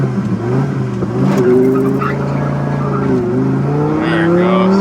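Dodge Viper GTS engine pulling hard under acceleration from inside the car, a loud rising drone that dips and climbs again as the driver talks over it.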